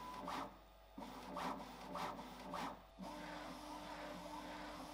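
A Bambu Lab X1C 3D printer runs its motor noise cancellation calibration, giving a steady mechanical hum with a tone that jumps in pitch several times and bursts of rising whirring. The sound comes close and alone, with no talk.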